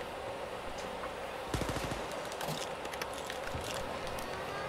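A rapid burst of gunfire from the video game Wolfenstein: Youngblood rattles out for a couple of seconds over a constant low game ambience, followed by a few scattered lighter shots.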